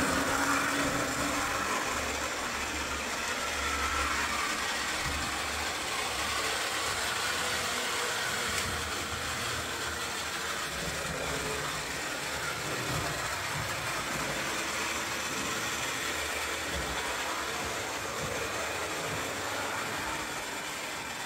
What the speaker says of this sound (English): let's see if this work train can make it around the track